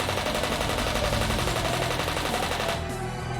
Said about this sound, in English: The sound the machine gun made was a lot quieter than what people would imagine, but its power was unimaginable